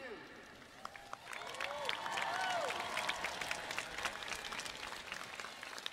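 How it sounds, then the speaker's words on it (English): A commencement crowd in a stadium at Western Kentucky University claps in a soft, distant wash of applause that swells and holds, with voices faintly mixed in. "let's give one final round of applause to thank your family, friends, faculty, and university staff"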